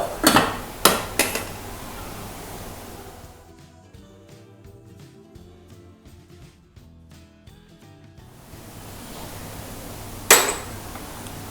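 A few sharp clinks of a utensil against a bowl, then a quieter stretch with soft music, and one more clink near the end.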